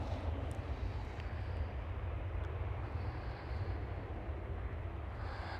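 A jet departing runway 18 Left at Amsterdam Schiphol Airport, a steady broad engine roar heard at a distance, holding constant throughout without voices.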